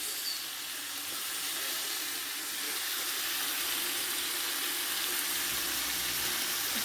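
Bean sprouts frying in oil in a pan for fried noodles, giving a steady, even sizzle and hiss at moderate level with no breaks.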